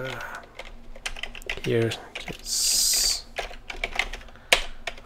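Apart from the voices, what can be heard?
typing on a computer keyboard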